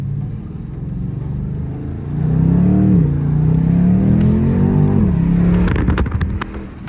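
A BMW M850i coupe's 530 hp twin-turbo V8 engine revs up loudly through its exhaust, its pitch climbing and falling in a steady surge before easing off, heard close with no talking.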